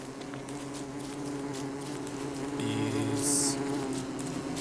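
Bees buzzing in a video game, a steady insect drone over a low background hum, with a brief brighter buzz near the end.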